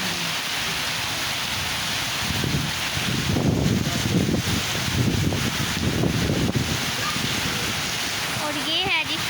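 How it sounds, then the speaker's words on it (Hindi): Heavy rain pounding down at a petrol pump stop during a stormy road trip, a loud, dense steady downpour with swelling gusts of heavier drumming, and a voice briefly heard near the end. "यहाँ पर हो गई है तेज बारिश"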